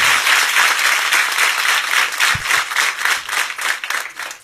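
Loud, close applause from a congregation at a Q'eqchi' preaching gathering, dense and steady clapping with a slight rhythmic pulse, fading a little toward the end.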